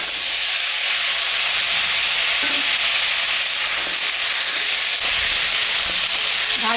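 Onion frying in a pan for a fish curry with kohlrabi and potato, a steady close sizzle and hiss with faint stirring scrapes throughout, no talking.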